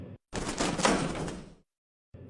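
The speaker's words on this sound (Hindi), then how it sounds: "पिंजरे का दरवाजा बंद हो जाता है" A cartoon sound effect of a cage door shutting: one broad, loud clattering burst of about a second and a half, coming in after a brief sound and ending in silence before another short sound starts.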